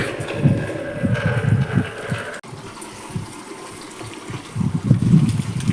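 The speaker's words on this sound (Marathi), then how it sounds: "झाडं लावलेच आहे तर यांना पाणी पण टाकतं" Water splashes and gushes steadily over potted plants, forming a close, continuous pour with a brief break partway through and no talk.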